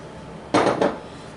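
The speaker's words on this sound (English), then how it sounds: "we're just gonna mix this up" A spoon or spatula clatters against a mixing bowl while pumpkin bread batter is stirred: a short burst of two or three quick, close knocks, then quiet.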